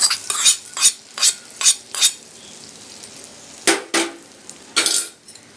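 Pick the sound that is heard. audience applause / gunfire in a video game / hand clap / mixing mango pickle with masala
mixing mango pickle with masala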